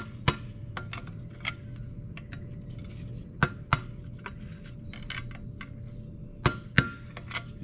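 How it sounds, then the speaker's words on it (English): Sharp metallic taps ring out irregularly, about a dozen over several seconds, as a tool knocks around a washer on a Jeep Wrangler TJ steering column, each strike crisp and close over a quiet low hum; no speech. "I just tap around it"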